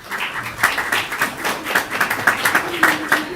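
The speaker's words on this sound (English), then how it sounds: "Or you can applaud, doesn't matter." Scattered audience clapping fills a school board meeting room during an awards presentation: individual claps ring out unevenly and fairly close, with faint murmuring beneath them.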